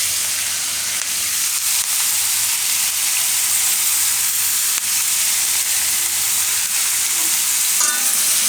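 Mushrooms cook in a pan for Gujarati mushroom shaak. A loud, steady sizzle and hiss continues throughout, with faint stirring scrapes and no voices.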